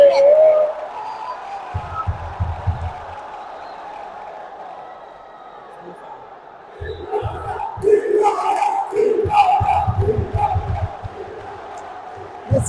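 Futsal fans of Villaurea Monreale at a Serie B playoff match against Mistral Palermo chant and roar in the stands, swelling in loud rhythmic bursts with drum-like thumps, while a commentator talks over the crowd.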